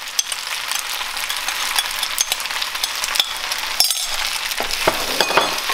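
Macaroni in sauce being stir-fried in a hot pan for a Thai pasta dish, a steady close sizzle with quick scraping stirs and occasional utensil clinks against the metal, no talking.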